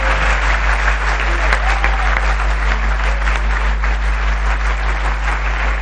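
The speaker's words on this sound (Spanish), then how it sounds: "les pido un aplauso muy fuerte para el presidente de la Nación" Loud, sustained applause from a large crowd for Argentine President Milei at a public event, steady and dense throughout with no break.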